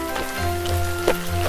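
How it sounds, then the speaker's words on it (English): Cartoon rain falls as a soft, steady patter beneath gentle sustained music. "There are drops of water falling from the sky."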